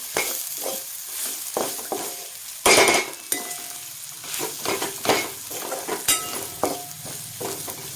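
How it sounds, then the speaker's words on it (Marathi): Masala with chili powder sautéing in a pan for Kolhapuri misal, a close sizzle broken by repeated spoon scrapes and clinks against the pan in an uneven rhythm. "मी तिखट अजून एक दीड चमचा घातलेला आहे आणि छान असं परतू द्यायचं"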